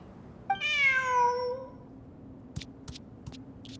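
A kitty in Genshin Impact gives one clear, drawn-out meow, followed by a few quick faint clicks and taps in a quiet setting.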